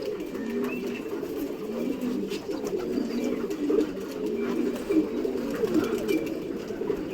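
Pigeons coo steadily inside a training cage, several birds overlapping in a continuous low, rolling murmur that stays near and fairly even throughout, with no talking.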